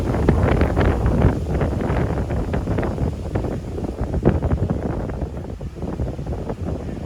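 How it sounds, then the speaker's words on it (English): Strong wind on the Appalachian Trail between Guilder Pond and Lake Buel Road, a loud, roaring gusty rush buffeting the microphone with uneven surges throughout, close and with no voices. "I don't like this really strong wind."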